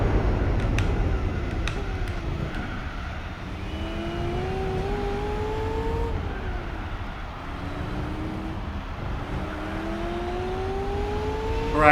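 A race car engine in Gran Turismo 4 revving through repeated upshifts, pitch climbing and dropping with each gear change, steady and close with a constant drone underneath.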